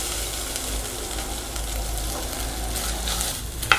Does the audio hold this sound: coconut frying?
yes